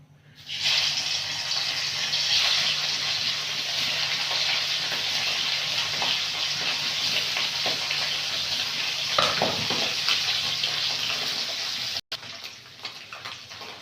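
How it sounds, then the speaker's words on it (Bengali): Fish frying in hot oil in a kadai makes a loud, continuous, close sizzle with a steady hiss and occasional crackles. The sizzle runs through nearly the whole stretch with no speech. "এবারে মাছগুলো ভেজে নেব।"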